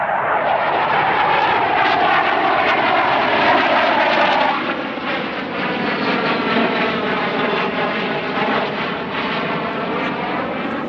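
An A-4 jet aircraft's engine roars loudly and steadily nearby, its pitch shifting slightly as it taxis past on the ground.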